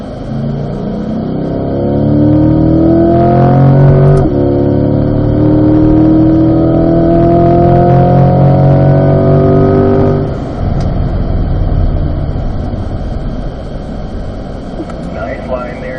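Corvette engine accelerating on a race track at an owners' driving school, a loud rising roar climbing in pitch for several seconds, then a brief lull and a rougher steady drone, with an instructor talking over it.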